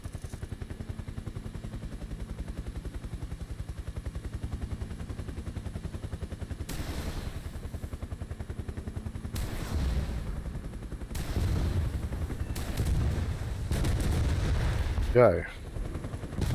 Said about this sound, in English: The rockets don't land where I thought they landed.